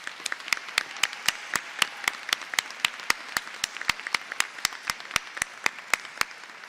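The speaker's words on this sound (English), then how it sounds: "I hope you all join me in just one more round of applause for all of our amazing faculty" Audience at a veterinary medicine white coat ceremony claps for faculty, the claps landing as sharp, evenly spaced strokes in a steady rapid rhythm that holds for several seconds at moderate volume.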